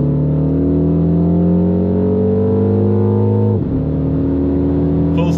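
A 2024 Mini Countryman JCW with an automatic gearbox in sport mode accelerates hard, its engine note climbing steadily, then a quick upshift drops the pitch before it pulls again, loud and close from inside the car.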